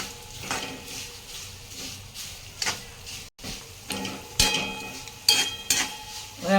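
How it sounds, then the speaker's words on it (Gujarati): Fennel seeds, about two spoonfuls, roast in hot oil with sesame, chilies and curry leaves for puffed-rice chevdo. A light sizzle sits under repeated clinks and scrapes of a spoon against the pan, which grow louder toward the end. "વરિયાળીને થોડી વાર શેકાવા દઈશું"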